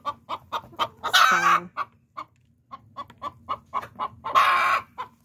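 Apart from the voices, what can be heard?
broody hen clucking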